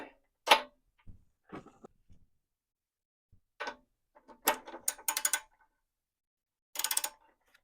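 Ratchet turning a 22mm spark plug socket on a Wacker portable generator: scattered single clicks and short bursts of rapid ratcheting separated by silence, close and fairly quiet, no voices.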